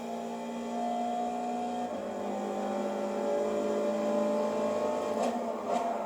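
A race car in Gran Turismo Sport accelerates hard out of a corner, its engine note droning steadily and rising, loud and continuous, with no voices over it.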